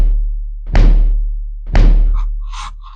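Two punchy, booming kick drum hits about a second apart, built from a recording of a fridge and processed through drum bus and reverb, each with a short wet tail, followed by a few faint tonal blips.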